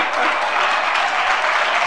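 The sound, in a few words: audience applause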